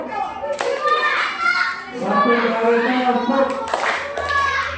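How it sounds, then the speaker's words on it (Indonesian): Elementary madrasah schoolchildren clap in counted rhythmic groups, with sharp bursts of hand claps mixed among children's voices and an adult leading. "dua kali tepuk tiga kali tepuk"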